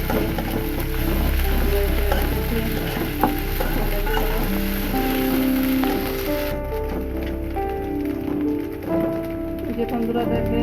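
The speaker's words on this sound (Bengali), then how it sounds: "পেঁয়াজ রসুনগুলো ভেজে নিলাম তেলের উপরে লাল করে" Onion and garlic frying in oil for a tilapia dopeyaja, a sizzling hiss with occasional clicks of stirring, partly masked by music and voice.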